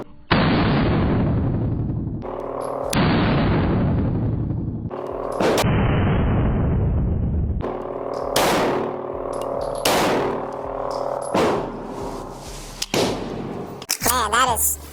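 Carry comp pistol firing at a range: a rapid string of loud, booming gunshots in close succession, each with a long ringing tail, a shooter's voice heard faintly between shots.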